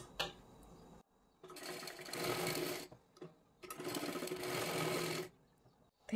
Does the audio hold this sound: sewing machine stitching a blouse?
yes